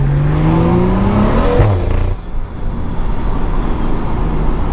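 A Stage 2+ tuned rear-wheel-drive BMW accelerates hard, its engine note rising in pitch before a brief dip as it shifts, then roaring on loudly and steadily from close inside the car.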